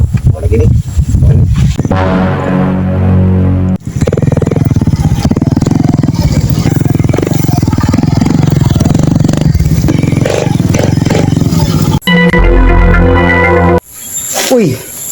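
Close motorcycle engine running loud and steady, revving with clattering and scraping noises, broken by abrupt cuts near the start and end.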